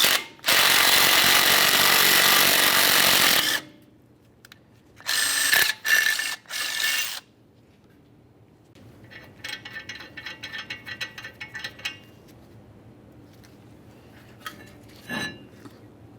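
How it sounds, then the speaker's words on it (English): A ratchet or power tool works on bolts to pull a brake rotor off the front hub of a 2015-2020 Ford F-150, with a loud burst of whirring followed by short bursts, then quieter metallic ratcheting clicks and taps. "Now we'll continue tightening this down, and you'll find that this does pull the rotor away."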